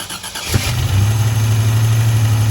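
An engine on an '87 Buick Grand National or DMC DeLorean cranks and catches, then settles into a steady, smooth low idle that runs loud and close for the rest of the clip, with no talking.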